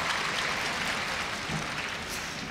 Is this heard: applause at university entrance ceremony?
yes